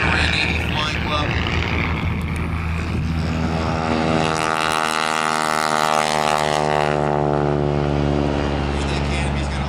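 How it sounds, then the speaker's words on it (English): A yellow T-6 Texan propeller plane taking off at an airshow, its radial engine droning loud and close, then building to a rising, steady roar as it powers away, with an announcer talking over it. "This yellow aircraft taking off at the Monterey Navy Flying Club."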